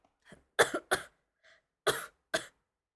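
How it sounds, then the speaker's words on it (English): A sick streamer coughs into a close microphone, several sharp separate bursts in two clusters with brief silence between them. "So if you hear coughing, I'm sorry guys."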